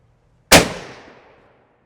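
A single sharp crack from a Soviet M91/30 PU sniper rifle, loud and close, with its report ringing out and fading over about a second before silence.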